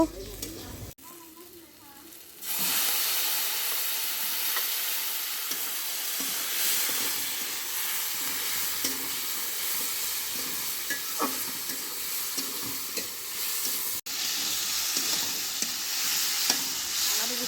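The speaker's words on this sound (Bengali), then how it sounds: "আলুটা কিছু টাইম কষিয়ে নেব" Potatoes with spices sautéing in a pan at night, a loud steady sizzle and hiss that starts after a short quieter stretch, with occasional scraping stirs and no talking.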